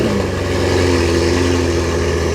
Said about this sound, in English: Now he's gonna start his McLaren MP412C.